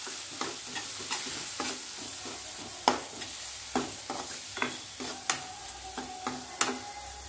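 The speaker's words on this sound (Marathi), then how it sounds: "1 चमचा पावभाजी मसाला। आता हे छान परतून घेऊया।" Leftover pav bread tossed in a pan with garam masala and pav bhaji masala gives off a soft sizzle, broken by irregular spatula scrapes and taps against the pan, with no talking.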